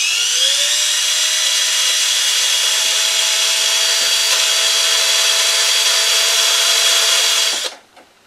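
A small rotary power tool grinds and cleans the end of a model Austin Somerset car axle, a steady high-pitched whine held close and loud for about seven seconds before spinning down and stopping.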